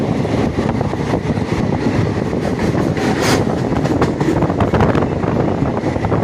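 A passenger train running down the ghat between Khandala and Karjat rumbles steadily along the track with rhythmic clickety-clack from the wheels, heard up close from on board with gusts of wind noise.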